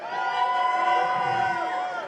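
Pro-Canelo crowd at a live boxing event cheering and shouting steadily, a dense roar of many voices with whoops and screams that holds loud throughout.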